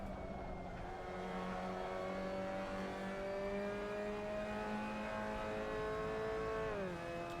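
A Mazda MX5 race car's engine lapping Lime Rock Park: a steady in-car drone whose pitch climbs slowly under sustained throttle, then dips sharply near the end as the revs drop.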